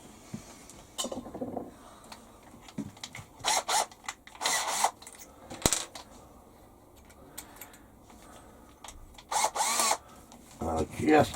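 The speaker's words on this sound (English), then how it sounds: "Then I'll get the 5mm drill." A power drill with a 5mm bit whirs in several short bursts, bit grinding into material, with pauses and quiet rustling between runs, in a workshop with a Warco WM180 lathe.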